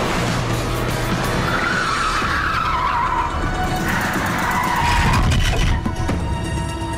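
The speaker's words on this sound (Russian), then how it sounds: "у нас сейчас машина навернется" A car skids out of control, tires squealing loudly in long wavering screeches over a roaring engine, the sliding building in intensity.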